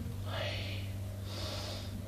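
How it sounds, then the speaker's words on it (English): Two heavy, breathy exhalations from a person during a karate lesson, each swelling and fading over roughly half a second under a steady low hum. "You hear him breathing?"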